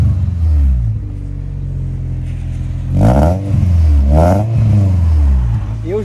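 Cars started up in a lot in Mérignac, Bordeaux: a steady low engine rumble throughout, broken by two loud, close revving bursts with rising and falling pitch around the middle and later in the clip.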